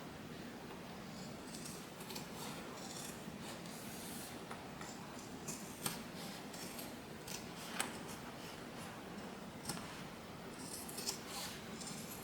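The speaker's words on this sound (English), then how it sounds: "We want to trim the bottom of the bag now." Scissors trim the bottom of a sewn fabric bag, giving a series of soft, close snips at irregular intervals over a faint hiss, with no talking.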